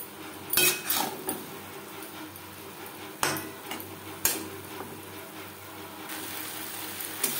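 A metal spoon stirring fried fish roe with spices and potatoes in a pan, with faint sizzling and several sharp clinks and scrapes against the pan at irregular intervals, quiet overall and without voices.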